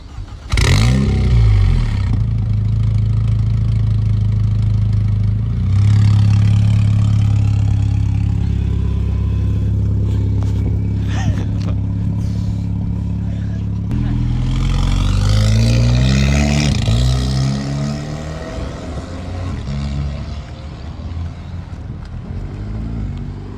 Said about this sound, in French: Elle sonne fort celle-là avec l'échappement modifié.